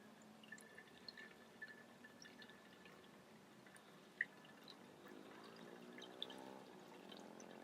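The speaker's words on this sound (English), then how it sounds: "I thought I water this plant thoroughly" Water is poured steadily onto a potted White Trinity Philodendron, a soft, quiet trickle and splash at close range with a few small drips and no talk.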